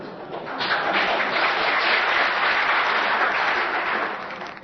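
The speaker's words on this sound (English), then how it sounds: "Is that applause, I take it," Sustained applause from the audience at the Chomsky–Perle debate on terrorism swells in quickly, holds steady and loud as a dense roar of many hands, then begins to taper at the end.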